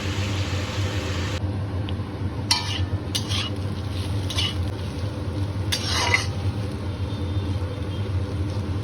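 Potatoes and small kachki fish frying in hot oil give a steady, dense sizzle throughout, with a few brief scraping stirs of a spatula in the pan standing out near the middle.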